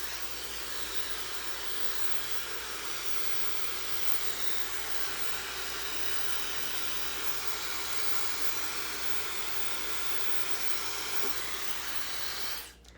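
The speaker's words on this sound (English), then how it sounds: "Now, I brought my blow dryer today to show you if you want." A hair dryer blows continuously at close range, a steady airy whoosh that stays even throughout before cutting off at the very end.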